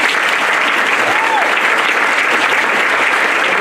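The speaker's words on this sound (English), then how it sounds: "Let's give Mr. Aftuck a round of applause." An audience at a school district's state of the schools address applauds a colleague, a loud, dense and unbroken burst of clapping that holds steady throughout.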